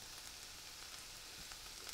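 Faint, steady crackling sizzle of frozen sweet corn and onions frying in a pan, with soft scattered pops and no voices.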